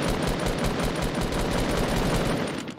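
Rapid automatic gunfire from the Fortnite video game, a dense continuous burst of shots lasting nearly three seconds before tapering off at the end, with no voices over it.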